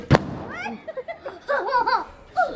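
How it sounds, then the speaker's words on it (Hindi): A single sharp firecracker bang goes off during a nighttime home camping birthday celebration in India, followed right away by close laughter and excited voices. "पटाखे चल रहे"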